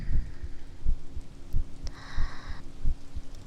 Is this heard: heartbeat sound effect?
yes